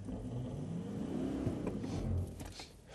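Toyota Land Cruiser 200 SUV pulling away in forced first gear in sequential manual mode, its engine note rising smoothly as it revs up over a few seconds, moderately close, with no talking.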